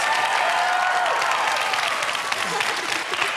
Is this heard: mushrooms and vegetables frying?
no